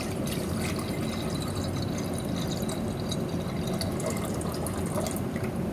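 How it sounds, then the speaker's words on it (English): Deionized water filling a 1 liter beaker, a dense, continuous splashing rush that stays steady and close from start to finish. "I'm going to fill it with about 500 mils of DI water."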